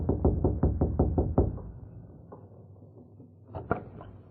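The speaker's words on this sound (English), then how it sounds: "They saw Lem Foster rapping on the door." Radio drama sound effect of knuckles rapping on a wooden door: a fast series of about seven loud, close knocks, then a pause and two more knocks.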